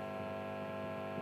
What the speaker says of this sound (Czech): Tak tohle je ten brum klasický zkreslený aparátu.